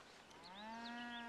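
A cow lets out a single drawn-out moo, faint and somewhat distant, rising slightly in pitch, with no talking over it.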